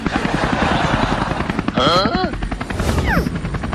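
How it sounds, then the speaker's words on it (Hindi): A loud helicopter's rotor chopping steadily up close, with short bursts of other sounds and swooping tones over it. "अरे ये तो हेलीकॉप्टर को उल्टा उड़ाने लगा।"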